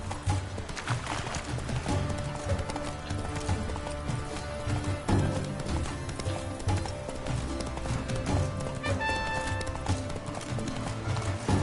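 Horse hooves galloping in The Witcher 3 (Blood and Wine), a steady, loud clip-clop rhythm running throughout over a dense game soundtrack, with a brief whinny.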